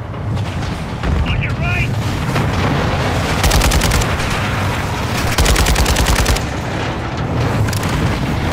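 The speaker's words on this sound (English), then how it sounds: "¡Bomba!" Heavy combat in Call of Duty Modern Warfare II, Dark Water mission, with a tank nearby: dense, loud gunfire and automatic bursts roll continuously over rumbling blasts, including a bomb explosion, while someone talks and shouts over the din.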